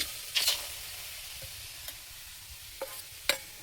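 Pork stir-fried in oil in a pan gives a faint, steady sizzle broken by a few sharp, brief clinks and scrapes of the utensil, close and quiet.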